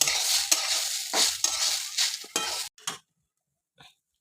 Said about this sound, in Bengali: আদা বাটা আর চালটাকে ভালো করে আমি নেড়ে নেবো